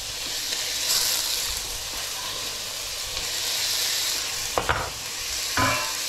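Onions fry in a pan on an induction hob with a strong, steady sizzle, and a couple of brief utensil scrapes stand out near the end.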